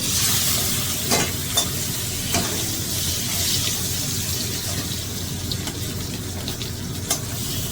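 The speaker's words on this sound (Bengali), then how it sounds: "বাকি মাছগুলো আমি এইভাবে ভেজে নেব" Tangra fish fry in a wok with little oil, giving a loud continuous sizzle and crackle close by, punctuated by a few sharp pops and scrapes.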